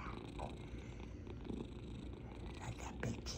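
A munchkin cat purrs softly and continuously close to the mic, a low rhythmic rumble with no talking over it.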